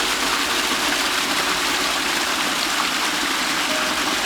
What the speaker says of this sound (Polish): to jest cały czas ten sam strumień